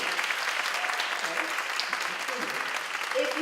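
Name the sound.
audience clapping hands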